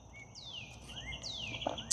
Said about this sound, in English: You can hear all the birds chirping.